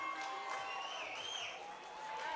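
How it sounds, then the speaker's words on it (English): Crowd at a Titans versus Vipers Westbowl football game cheering and applauding in a sustained, fairly faint wash of noise from a distance. "They are cheering"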